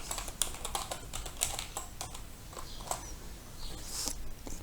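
Keys clatter on a computer keyboard during spreadsheet work in Excel, a quiet, uneven run of close clicks with short pauses, no one speaking.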